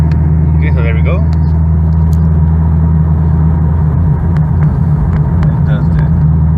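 A Chevrolet Camaro engine drones as a low, steady rumble with a strong hum while the car is driven, loud and constant beneath the road noise, with a few light clicks and brief faint voice-like traces.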